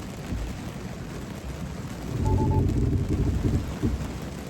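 Steady rain drums on a 2025 Tesla during a Full Self-Driving drive, a dense wash of patter that swells louder partway through and stays constant with no voices.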